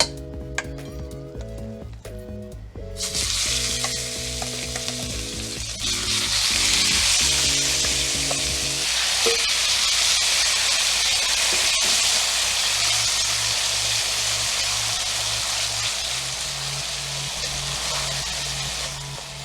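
Ground beef hits hot canola oil in a pan and a steady, loud sizzle takes over after a few seconds of background music, then carries on continuously to the end.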